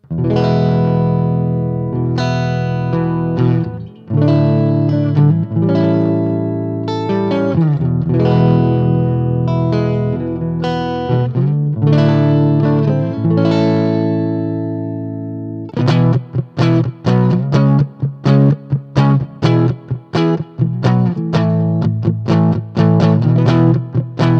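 An electric guitar plays a distorted riff through an AmpliTube 5 simulation of a '57 Custom Champ amp, chords and single notes, sustained passages giving way to choppier, rapid picking in the second half.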